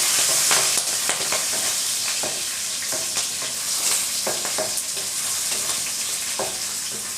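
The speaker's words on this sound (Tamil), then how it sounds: "சேர்த்துட்டு நல்லா வதக்கிடலாம்." Chillies and ginger sizzle and crackle steadily in hot oil, with scattered pops and the scrape of stirring, no voices.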